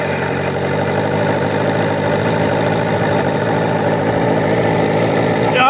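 A small muffled engine with an electric starter and ignition runs steadily and loudly, a continuous low droning hum through the whole stretch with no pauses.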